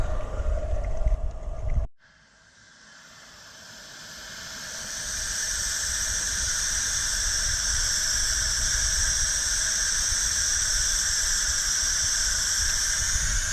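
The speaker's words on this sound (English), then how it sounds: "you've got the exhaust coming out of the chimney" A loud steady hiss of escaping steam from a live steam locomotive's chimney exhaust begins after a brief pause, rising and holding as a continuous rushing exhaust, no voices.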